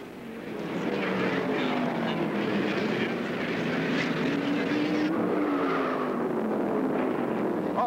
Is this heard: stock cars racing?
yes